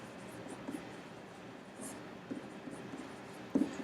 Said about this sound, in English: I'll write down rectangular prism